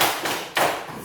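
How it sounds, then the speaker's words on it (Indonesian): A class doing a 'tepuk salut' hand-clapping cheer: two quick flurries of many hands clapping together in a classroom, close and fairly loud, each a brief burst, with no talking. "Tepuk tangan dulu"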